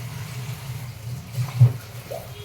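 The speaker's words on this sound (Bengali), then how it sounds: "ধোয়া জলটা দিয়ে দিলাম" Rinse water is poured into a cooking pan for an Andhra-style spinach dish, a low, steady splashing gurgle with a slightly louder slosh near the middle.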